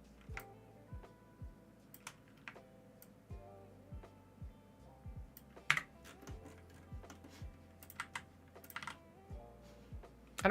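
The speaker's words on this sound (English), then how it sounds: "pressing keyboard buttons makes it" Keys tapped on a computer keyboard while mocking up the interface for an Arduino-built RC transmitter, a scattered run of soft clicks with irregular pauses, close and quiet.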